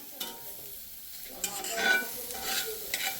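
Onion frying in a pan on a gas stove while being stirred: soft sizzling under repeated scraping strokes of a spoon, fairly close and quiet.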